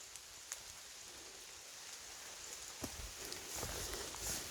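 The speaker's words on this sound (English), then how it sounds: "You can hear the rain falling on the canopy above me." Rain falling on a tree canopy in a park, a soft steady hiss of drops with scattered louder pats and taps on leaves, gently building over several seconds.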